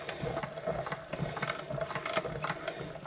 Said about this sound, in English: so let's put this through the machine now.